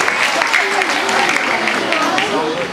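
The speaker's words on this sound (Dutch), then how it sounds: "Applaus voor deze prachtige pony" A crowd at a Ponyparkcity morning opening claps for a pony, a continuous wash of applause with a voice talking over it for much of the time.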